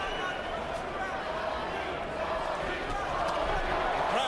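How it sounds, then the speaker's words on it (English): Arena crowd at the Evander Holyfield vs John Ruiz heavyweight boxing rematch, round 4, roaring in a steady, dense wash of cheering that holds loud throughout, with commentary voices mixed in. "Crowd getting behind Holyfield."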